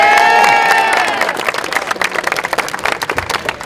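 A crowd at basketball tryouts in Atlanta claps and cheers, loud and dense at first, then thinning into scattered claps and shouts toward the end.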